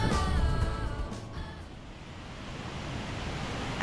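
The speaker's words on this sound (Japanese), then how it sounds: "目の前にあるのは板出の滝です。" Constant rushing water of Itade Falls on the Amikake River, heard from Kanayama Bridge in Kajiki, Kagoshima, roars at a distance, a broad steady wash with no voices.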